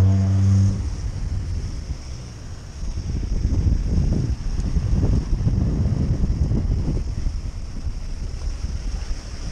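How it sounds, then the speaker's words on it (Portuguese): Motorboats and jet skis run past on the water at Balneário Camboriú, a steady close engine rumble and hull-on-water wash under strong wind buffeting the microphone, swelling and easing as craft go by. "Mais uma lancha, rapaz. Tá vindo mais uma."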